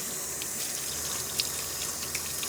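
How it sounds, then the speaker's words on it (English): Seeds being rinsed under a running kitchen tap, a steady close wash of flowing water with faint splashes and no voices. "I'm running these seeds under the water and giving them a good rinse."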